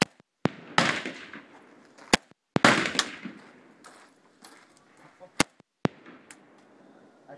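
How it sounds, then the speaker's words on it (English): An AK-47 rifle fires at a shooting range: roughly eight sharp, loud cracks, some in quick pairs, each followed by a brief echoing tail, with quieter clatter between shots. "it's my first time shooting an AK-47, so we'll see how it feels."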